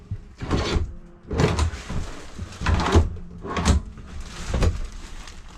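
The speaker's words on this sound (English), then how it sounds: "More drawer storage with the soft close." Soft-close drawers in a 2021 KZ Durango D326RLT fifth-wheel RV are slid open and shut several times, giving a series of muffled woody thumps and sliding rumbles at close range, with no talking.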